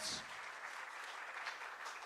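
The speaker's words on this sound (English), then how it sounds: "can we have a round of applause to the host college" A short burst of audience applause for the host college at a civil engineering quiz event, a steady hall-wide clapping texture that stays fairly even, with a faint voice underneath at the start.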